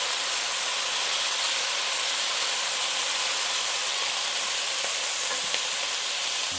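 Shrimp searing in a wok give a steady, loud sizzle of frying that continues without a break, with faint clicks of stirring near the end.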